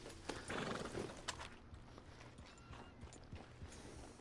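A horse in Red Dead Redemption 2 whinnies and snorts up close, with hoof clops and rustling around it, then quieter clip-clopping fades under a steady ambient background.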